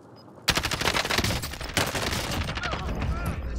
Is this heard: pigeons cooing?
no